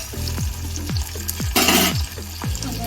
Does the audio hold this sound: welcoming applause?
no